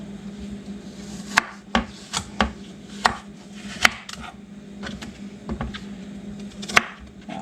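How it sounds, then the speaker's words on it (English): Kitchen knife chopping zucchini into little chunks on a cutting board, a series of sharp irregular chops spaced across the span, close and crisp with faint scraping between cuts. "Now I'm just going to cut this in little chunks that'll go through my food processor."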